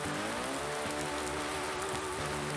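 Rain falls steadily in Farming Simulator 19, a constant dense hiss with a droning engine hum running beneath it.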